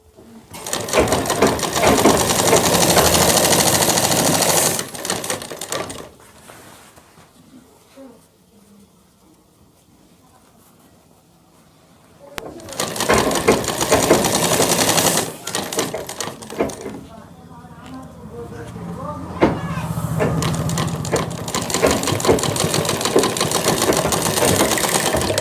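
Sewing machine stitching a shirt collar: loud, fast continuous whirring runs, stopping for quieter gaps of fabric handling, then starting up again twice.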